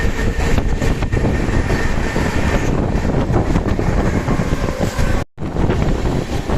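Indian Railways express train 12219 running through a station between Karnataka and Telangana, recorded from on board: a loud, steady roar with rattling wheels and heavy wind buffeting, and a brief cutout near the end.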